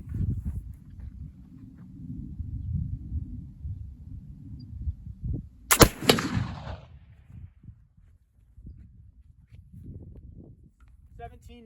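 A single sharp, loud report from a .54 caliber Kibler Colonial muzzleloader rifle loaded with 1F Swiss black powder, cracking midway through low rumbling wind and handling noise, with a brief ringing tail.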